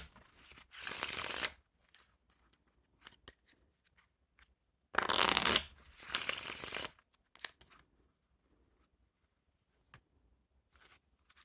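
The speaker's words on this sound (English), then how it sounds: "for the Riffle Shuffle, the design will get all mixed up" Plastic bridge-size playing cards being riffle shuffled, two close crisp fluttering bursts amid quiet handling clicks and taps.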